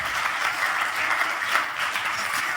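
Live audience at a computer game show recording at the EGX Rezzed 2018 event applauds steadily, a dense, even round of clapping throughout without speech.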